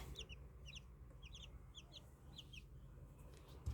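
Repeated high, thin peeps from six young Chinese Silkie chicks in quick little bursts, several birds calling over a low background rumble.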